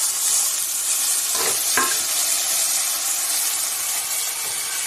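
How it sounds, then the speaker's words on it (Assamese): Peas and spices frying in a pan while being stirred, a steady close sizzling hiss throughout with a couple of brief scraping stir strokes near the middle; no talking. "অকণমান টাইম ফ্ৰাই কৰি থাকিম গোটেইখিনি মছলাখিনিৰ লগত"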